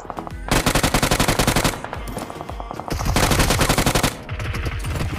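Rapid automatic gunfire in PUBG Mobile, loud and close, in two long sustained bursts separated by a short pause, with faint other game sounds between.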